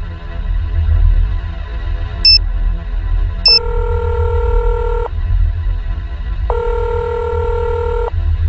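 Telephone tones from the Nancy Drew game: a couple of short dialing beeps followed by two longer ringback tones, loud, clean and synthetic over a low background hum, with no one speaking.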